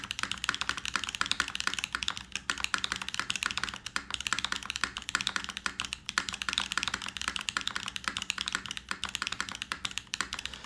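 Steady, rapid typing on a custom FR4-plated mechanical keyboard fitted with GMK keycaps, each keystroke a crisp close tap in an unbroken stream with no talking.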